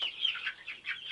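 Backyard chickens clucking in a quick, steady run of short calls, moderately close and fairly soft, with no talking over them.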